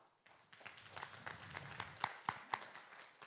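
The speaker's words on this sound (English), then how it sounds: "I didn't ask you to clap, but you clapped anyway" Audience clapping at the opening ceremony of the ASOCIO Digital Summit, building from scattered claps into moderate applause, with a few distinct loud claps close by.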